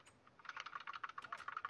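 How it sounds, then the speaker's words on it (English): Quick, faint clicks of keys being typed on an old 1970s-style computer keyboard, a brief run of rapid keystrokes. "where's your 1970s keyboard?"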